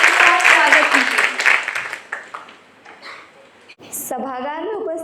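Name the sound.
audience applause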